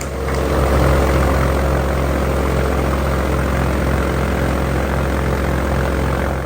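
A loud Viking propeller aircraft engine drones steadily up close, a constant throbbing roar with no break.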